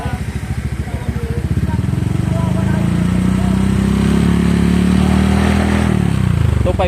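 A Honda Click 125 scooter fitted with an aftermarket muffler revs up steadily, its engine note climbing and holding loud and close before easing back, with people talking faintly in the background.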